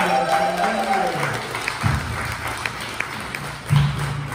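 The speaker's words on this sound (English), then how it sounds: "Let's have another round of applause for Megan." An audience at a morning charity fundraiser gives a round of applause, a steady crowd patter that runs beneath someone speaking at the start and again near the end.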